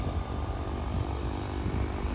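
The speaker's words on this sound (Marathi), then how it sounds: "एक विमान चालू झालेलं आहे पण ती जागेवर किती वेळ झाली." An airplane engine runs on the ground, a loud, steady propeller-like drone with a deep rumble that holds unchanged throughout, with no voices.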